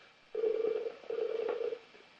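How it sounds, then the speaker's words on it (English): Telephone tones on the other end of a call, heard as two steady electronic bursts with a short gap between, thin and moderately loud. "Is that you ringing on the other end, Israel?"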